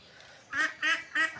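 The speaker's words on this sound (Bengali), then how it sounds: "ওই যে হাঁসগুলো ভয়ে পালাচ্ছে" Three loud duck quacks in quick succession, nasal and raspy, close by over a quiet outdoor background.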